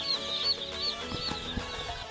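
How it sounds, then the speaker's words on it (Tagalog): Newly arrived broiler chicks, a batch of about 300, chirp and peep continuously in a dense, steady chorus close by, with no talking. "dito ko muna po ilalagay itong ating mga bagong dating na sisiw"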